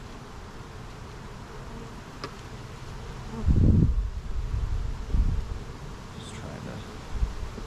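Honeybees buzz around an open hive during an inspection, a dense constant drone with rustling as frames are handled, and a person speaks briefly over it.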